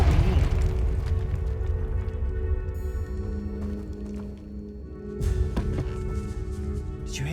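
Confringo explosive spell blast in Hogwarts Legacy: a deep booming burst at the start that rolls and rumbles away, followed by further crackling debris pops and a second impact later, loud and close.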